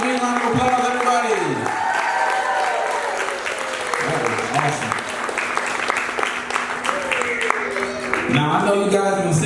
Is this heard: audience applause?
yes